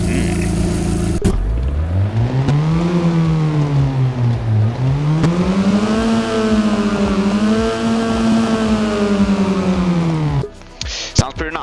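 A Lotus Elise in the Roblox game Driving Empire cranks to life after a click and then revs, its engine tone climbing, dipping and climbing again in a loud, steady game-audio drone before cutting off abruptly near the end.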